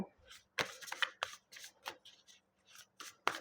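Tarot cards are shuffled by hand, close and quiet, in a series of short crisp riffling bursts with brief pauses between them.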